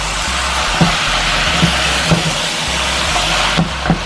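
Chicken frying in oil for Jamaican-style curry chicken sizzles and hisses steadily in a pot, close and loud, as a spoon stirs it with a run of soft knocks against the pot.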